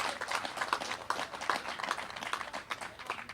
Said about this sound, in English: I think the teachers at New Forest deserve a round of applause